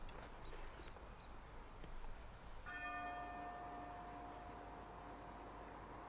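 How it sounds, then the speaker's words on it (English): A single distant church bell strike in Nokia rings and slowly fades, its metallic overtones lingering over steady background noise at a disc golf tournament. "The church bells are ringing"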